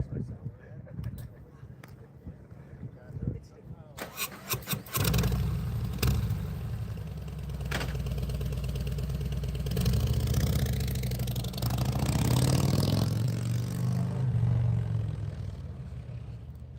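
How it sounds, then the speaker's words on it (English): A motorcycle engine starts partway through and settles into a steady, fairly loud idle with a rough clattering rumble, following quieter sounds at the start. "Motorcycle."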